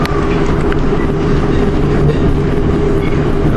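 A passenger train hauled by three Class 47 diesel locomotives rumbles steadily across the Bedford Levels, a loud continuous low drone with engine hum and faint track noise heard from on board.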